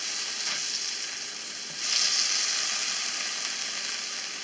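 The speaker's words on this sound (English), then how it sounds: "as you can see, they're starting to fry up nicely" Homemade lamb sausages frying in a pan give a steady, close sizzling hiss that swells briefly partway through and then settles, with no voices.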